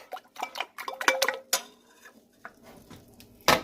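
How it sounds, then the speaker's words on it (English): A fork beats about four eggs with a pinch of salt in a bowl, giving quick, irregular clinks and taps against the dish in short bursts, close up and without talk. "Just beat your eggs like so."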